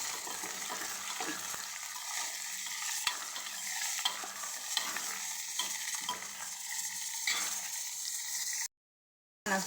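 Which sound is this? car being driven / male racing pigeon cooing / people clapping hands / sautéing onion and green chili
sautéing onion and green chili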